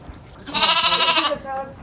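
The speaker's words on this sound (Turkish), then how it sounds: "Kuzular." A newborn lamb in a village farmyard lets out one loud, close, wavering bleat lasting under a second, trailing off into a softer tail.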